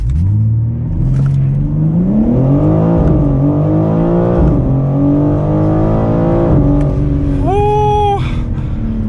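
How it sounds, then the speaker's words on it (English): A 2022 BMW M4 Competition xDrive launches under launch control, its engine note climbing loudly through several rising sweeps as gears shift, ending in a sharp high whine, heard from inside the car. "It tells you that launch control is activated"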